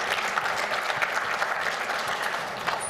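Audience claps steadily for women who shared their stories at a health district event, a moderate, even patter of many hands from a seated crowd, fairly soft and unbroken.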